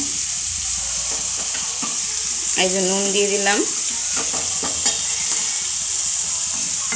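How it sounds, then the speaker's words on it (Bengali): Onion frying in a pan with salt added, a continuous close sizzle under brief speech, with a short tonal whine and faint clinks partway through. "পেঁয়াজটা ভাজা ভাজা হোক"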